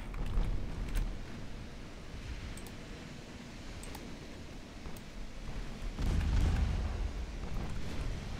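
Heavy naval guns fire in a battleship and cruiser engagement in the naval warfare game Ultimate Admiral Dreadnoughts, giving a few muffled, distant booms over a low rolling rumble, with one stronger blast near the end.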